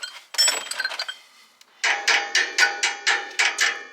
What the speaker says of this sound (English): We're just going to tap this into place. Tap, tap, tap, tap, tap, tap, tap.